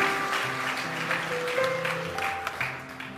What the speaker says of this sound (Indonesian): Tepuk tangan untuk berkatnya ya